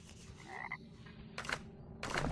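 A toad in the video game Mortal Shell croaks in short, close bursts, a few raspy calls separated by brief pauses over a faint background.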